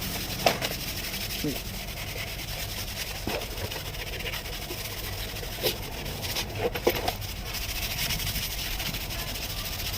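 A grey abrasive pad scrubs the surface of an aluminum ladder, a continuous close hiss of rubbing with a few sharper scrapes and knocks, steady throughout.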